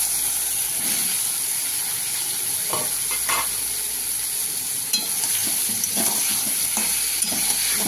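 Bitter gourd and potato frying in hot oil with radhuni seeds in a pan, a steady sizzle broken by stirring scrapes and small pops, no voices.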